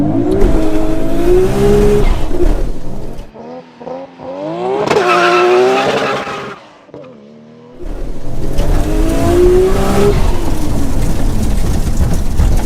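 Nissan GT-R R34 with 800 hp launching hard in a 0 to 60 run, a loud engine rising through rapid upshifts with brief gaps between gears, roaring close throughout.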